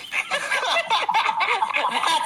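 A human voice imitating a squawking seagull, with a run of rapid, harsh, gobbling cries that carry on without a break.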